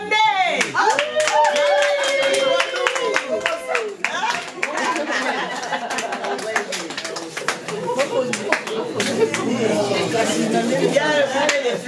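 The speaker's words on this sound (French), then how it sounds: "on va acclamer pour la maman en question" Audience clapping and cheering at a diploma ceremony held by a pan-African nationalist group as a mother is called forward, a dense, sustained applause lasting throughout, with chatter and voices mixed in.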